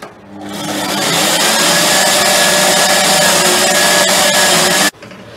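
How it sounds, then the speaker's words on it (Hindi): A mixer grinder whirs loudly and steadily for several seconds, blending mango with a little milk into a fine paste, then stops abruptly. "और बस इसको ग्राइंड कर लेंगे बहुत बारीक पेस्ट में"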